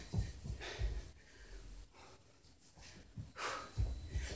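Heavy, labored breathing from someone mid-workout doing side steps, squats and crunches, with loud bursts of exhaled and snorted breaths coming in irregular clusters, close to the microphone with no talk.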